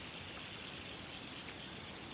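Steady rain pours down on a flooded horse paddock, a dense, even hiss that holds without pause throughout, with no voices.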